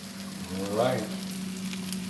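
Brussels sprouts sizzle steadily in a hot pan, a soft continuous frying hiss with a brief louder swell partway through.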